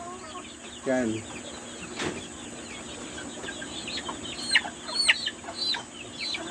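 Gamefowl rooster, a Papay Gray crossed with a golden boy, gives a short burst of low clucks near the start, then soft chirps and murmurs later over a quiet farmyard background, with brief talk.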